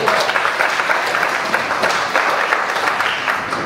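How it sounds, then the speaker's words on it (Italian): Audience at a comedy show bursts into dense, steady applause, clapping from a full room filling the whole stretch without any talk. "Un applauso a questo splendido pubblico che comprerà il mio libro"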